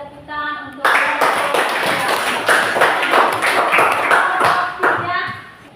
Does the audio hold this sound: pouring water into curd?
no